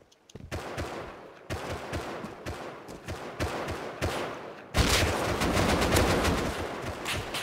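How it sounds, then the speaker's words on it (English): Gunfire in the survival game Rust during a fight against a large group: a steady string of evenly spaced shots, then a denser, louder burst of rapid automatic fire toward the end, all close and with no talking. "I headshot one and body shot another one."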